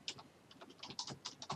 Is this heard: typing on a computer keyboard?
yes